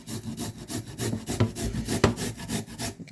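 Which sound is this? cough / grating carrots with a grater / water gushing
grating carrots with a grater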